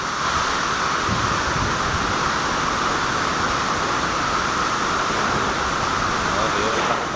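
Strong wind and heavy rain make a steady, loud rushing roar that never lets up, with a voice faintly speaking beneath it.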